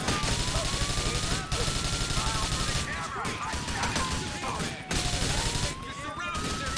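Sustained bursts of rapid gunfire in Grand Theft Auto IV, loud and nearly continuous, with brief pauses between volleys.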